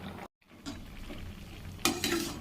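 A spoon stirs roasted sesame and peanut paste into a simmering cauliflower curry in a pan, with soft scraping, light bubbling and a few metallic clinks against the pot after a brief silence.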